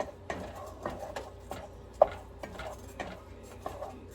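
Flour mixture being stirred in a cooking pan, with soft irregular scraping and light clinks of a utensil against the pan, close and fairly quiet, no talking.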